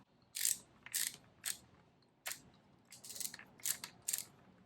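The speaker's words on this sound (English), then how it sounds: "Better yet, it's a ratcheting screwdriver." A handheld ratcheting screwdriver clicks in several quick bursts of sharp ratchet clicks separated by short pauses, close and clear with no talking.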